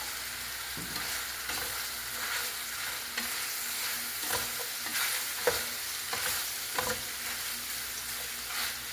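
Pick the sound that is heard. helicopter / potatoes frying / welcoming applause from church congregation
potatoes frying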